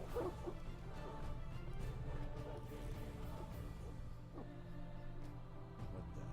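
Evil green dogs in The Witcher video game bark and yelp in a steady background din, with a brief whimpering cry near the start and faint game ambience underneath.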